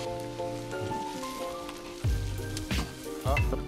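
Chicken pieces laid skin-side down to brown in a pan alongside shallots sweating in fat, making a steady close sizzle with fresh bursts of crackling as pieces land, mixed with a tonal music-like bed.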